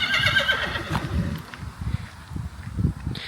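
A horse in a rural French garden neighs in a loud, close whinny at the start, followed by soft hoof steps and rustling outdoors, with no talking.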